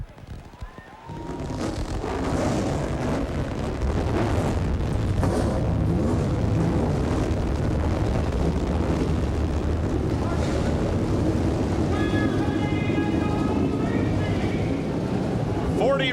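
ASA stock race cars at the Milwaukee Mile fire up together on the starting grid, building into a loud, sustained roar of many engines after a brief quieter start, with an announcer speaking over the noise.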